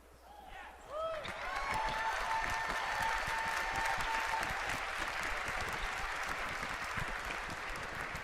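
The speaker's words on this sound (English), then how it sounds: "I hear people cheering" A crowd at BlizzCon 2013 breaks into loud applause and cheering with whoops, sustained and fairly close after a brief quiet start.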